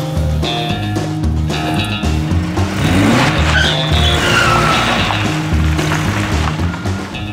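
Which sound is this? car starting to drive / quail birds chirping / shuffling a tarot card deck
car starting to drive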